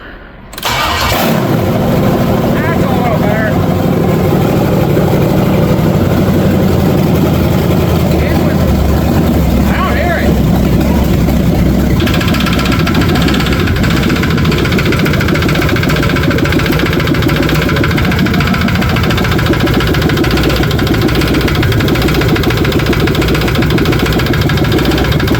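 A 7.4L 454 Vortec V8 truck engine starts up and settles into a steady, loud idle that runs on continuously, with a slight shift in tone partway through.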